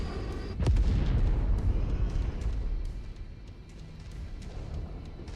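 Cannon fire and explosions in a base-assault video game: a heavy boom near the start followed by a dense, rumbling wash of blasts and impacts that gradually fades, with no talk over it.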